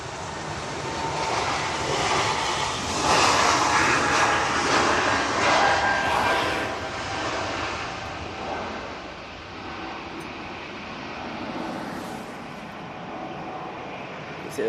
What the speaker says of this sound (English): Anyway, Air France A220,